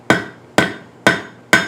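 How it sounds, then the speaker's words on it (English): Four evenly spaced, ringing metal hammer taps on the top of an anvil while a trivet is straightened, each a sharp close strike with a short bright decay. "a couple of polite hammer taps,"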